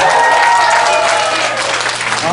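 An audience at a university freshman welcome party applauds a performance, with loud, dense, sustained clapping from a crowd, steady across the whole stretch with voices mixed in.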